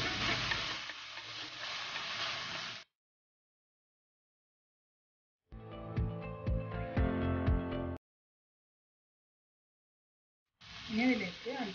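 Green chilies and tomato frying with onions in a pan give short bursts of sizzle and stirring, split by silent gaps, with music-like tones in the middle stretch.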